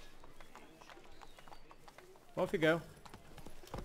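Roach, the horse in The Witcher 3: Blood and Wine, trots up with a short burst of close hoof clip-clops, loud for a moment after quieter game ambience, with a man's brief remark spoken over it.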